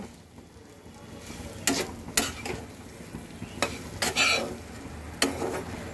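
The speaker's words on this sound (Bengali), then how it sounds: "এইবার আমি সবকিছুকে সুন্দর করে আস্তে ধীরে কষাবো" Spices with coriander powder and salt being slowly sautéed in a little oil, a low sizzle under intermittent sharp scrapes and clinks of a spatula in the pan, a handful of strokes spread unevenly, no talking.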